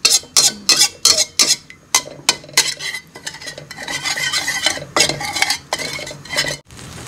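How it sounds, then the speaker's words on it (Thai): Shrimp paste dry-roasting in a pan, stirred with a utensil: a close, loud run of rhythmic scraping strokes and clinks against the pan, then steadier continuous stirring with a soft sizzle. "เราคั่วกะปิก่อนนะคะ"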